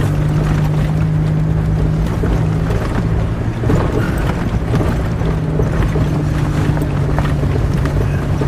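Toyota 4Runner driving off-road up a mountain track, a continuous low engine and road rumble with steady buffeting and rattling throughout, loud and close from inside the vehicle.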